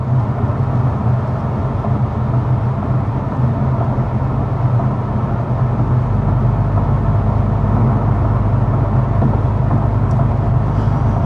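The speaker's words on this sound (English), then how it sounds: "we are sitting at about 55 miles an hour, so you know what it's time for? Our signature sound level reading." Steady low road and engine drone inside a 2025 Volkswagen Golf GTI cruising at 55 mph with the fan on its lowest setting, a constant hum and tyre roar with no talk.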